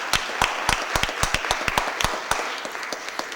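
Audience applause at a city Board of Aldermen meeting honoring a student award winner: sparse, sharp individual claps with distinct spacing, fairly close and loud, no talking over them.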